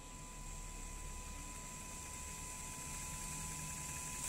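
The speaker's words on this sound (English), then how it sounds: "I can clearly notice the change in the motor sound" The small electric motors of an ESP32-controlled RC soccer robot run with a steady, faint whine and hum. The sound holds evenly throughout with thin tonal lines over low noise.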